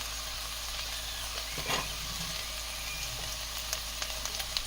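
Okra sizzles steadily in a hot pan as turmeric and red chilli powder are added. The frying hiss is close and continuous, with a few soft stirring scrapes and no talk.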